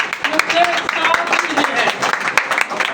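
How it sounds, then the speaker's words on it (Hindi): An audience claps together in a gathering, a dense patter of many hands that continues steadily and fairly close for a few seconds. "अपने लिए तालियां बजाएं"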